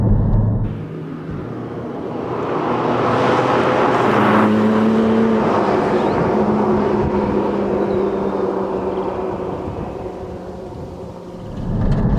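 A Porsche 718 Cayman GT4 heard from inside while driving, its engine building into a loud sustained drone that holds steady for several seconds before easing off near the end.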